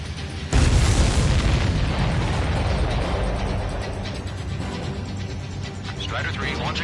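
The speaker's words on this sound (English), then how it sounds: "Strider 3 launching missile." A missile launching in the Ace Combat flight game: a sudden loud whoosh-boom at the start followed by a sustained roaring rush that slowly fades, with faint voices underneath.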